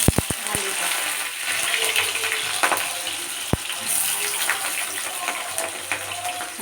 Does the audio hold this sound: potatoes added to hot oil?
yes